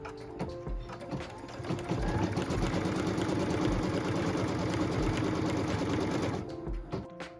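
An embroidery sewing machine stitches a tack-down line on fabric for a pieced quilt block, its needle running in a fast, steady mechanical chatter that holds continuously near the microphone, with soft thumps at the start and end.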